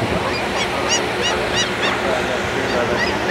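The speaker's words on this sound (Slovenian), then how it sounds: "Galebi nas spremljajo, divje, živje." Seagulls calling repeatedly by a Norwegian fjord, a series of harsh, evenly spaced cries carried over loud wind and rushing water.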